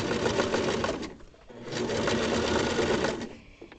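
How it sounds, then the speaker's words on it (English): A sewing machine back stitches all the way around a lining, running in two long, steady bursts with a short slowdown between them, close and loud, with no talking. "I'm back stitching, and I'm going to go all the way around"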